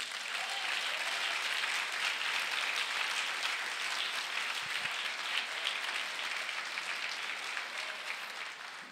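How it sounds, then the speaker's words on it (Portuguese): A church congregation at a pastors' gathering applauds in a dense, sustained wash of clapping that holds at an even level throughout and tapers slightly at the end. "Então dê um aplauso a Jesus."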